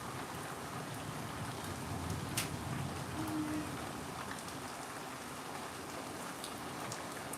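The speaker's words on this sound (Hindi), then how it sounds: "इतनी बारिश हो रही है तो देखो तो ज़रा गाइस।" Heavy rain pours down steadily, a dense, even hiss of drops drumming on surfaces that holds for the whole stretch with no voices.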